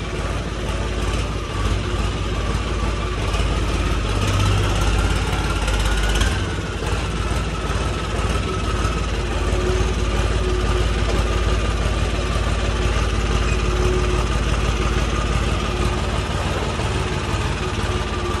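A tractor engine idles steadily in the open, a continuous low rumble with a constant even drone throughout and no changes in revs.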